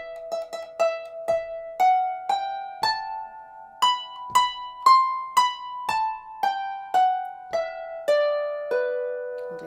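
A harp plays a short scale phrase from a lesson tune, about fifteen plucked notes with ringing decay, moving up then gently back down at a moderate, slightly uneven pace, close and clear with no voice.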